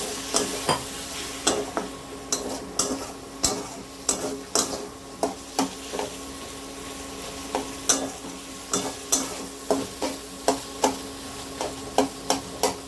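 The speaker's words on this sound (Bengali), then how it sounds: "এবার ভালো করে নাড়াচাড়া করবো" Spices for a Kabuli chickpea curry are stirred in a pan, a utensil scraping in regular rhythmic strokes while oil sizzles steadily underneath, close and clear without any talk.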